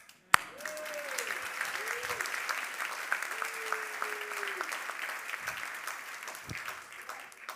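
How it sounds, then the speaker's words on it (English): An audience bursts into steady, sustained applause, even clapping filling the room at moderate distance, with a sharp thump at the start and a few faint voices underneath. "You can clap for that."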